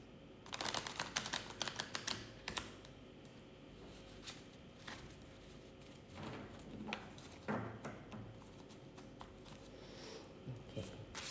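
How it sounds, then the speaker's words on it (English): Oracle cards are shuffled by hand up close, a quiet run of riffling and snapping bursts with pauses between them. "one more shuffle"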